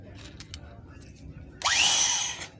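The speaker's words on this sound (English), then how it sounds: "we are going to use this drill" A power drill fitted with a 4.3 bit, used to drill out a broken bolt, spins up sharply with a rising whine and runs for about a second after soft handling noises.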